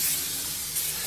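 A spray can of beeswax wood finish gives a short, steady hiss of about a second, close and fairly loud, with no talking.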